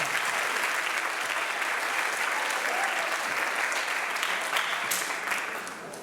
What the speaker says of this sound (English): Please give Trevin a round of applause.